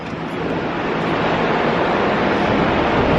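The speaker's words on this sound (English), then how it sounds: "The wind is really cold." Cold, blustery wind buffets the microphone on a freezing New York street near the Tweed Courthouse, a steady, loud roar that builds slightly over a few seconds with no speech.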